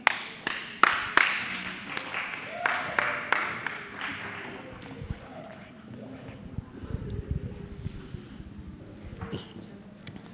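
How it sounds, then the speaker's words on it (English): An audience applauds after a sign-language storytelling performance, with a few sharp claps at first and then scattered clapping that thins out. Indistinct voices murmur underneath. "Round of applause."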